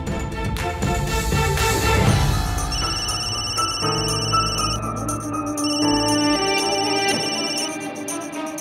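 A telephone rings for an outgoing call, giving a steady repeating electronic ring tone in regular bursts that sit over background music and run through the whole stretch.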